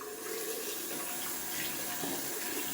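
Tap water runs steadily as a shaving brush is rinsed under it, a close, continuous hissing splash with no talk.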